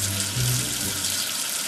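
Running water from a tap rinsing soap off a letter, a steady close hiss and splash with a faint low hum underneath, no voices.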